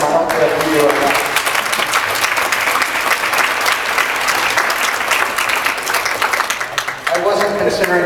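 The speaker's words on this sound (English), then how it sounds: "I'm going to applaud for them." An audience at a New Year's Day poetry event in New York City applauds, dense sustained clapping close and loud for about seven seconds before tapering off as a voice speaks.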